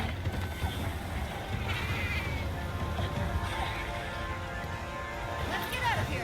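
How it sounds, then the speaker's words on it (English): A palico cat companion in Monster Hunter Wilds meows amid a dense, busy game soundscape with constant background noise and music, the short cat calls blending into the mix. "You have the choice in the audio to switch between whether your palico meows or talks"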